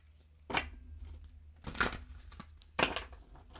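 Oracle cards are shuffled close by in three quick, crisp bursts of papery riffling separated by short quiet pauses, with no voices.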